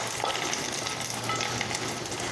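Hot tempering poured into Kerala-style pineapple pachadi crackles and sizzles softly, a low, even frying hiss with small pops scattered through the brief moment, and no talking.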